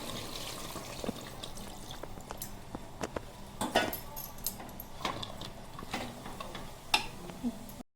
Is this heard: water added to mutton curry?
yes